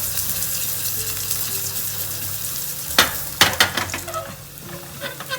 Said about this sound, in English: To this we'll add some garlic, chopped garlic. And let it turn brown.